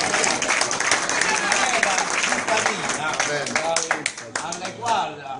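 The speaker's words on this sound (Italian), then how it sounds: "c'è da fare l'applauso" Audience clapping in a council chamber during a mayoral proclamation, a fairly sparse, uneven patter of hands with voices talking over it throughout.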